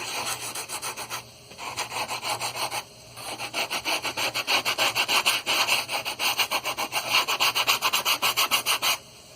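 A sanding sponge rubbed back and forth over a plastic model starship part makes steady, rhythmic rasping strokes, close and continuous, with a few brief pauses between runs of quick scrubbing passes.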